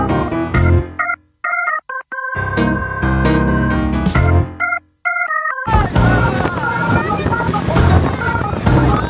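A speedboat ride on a Ha Long Bay cruise in Vietnam, with music in the first half giving way to a loud, steady rush of wind, water and engine noise.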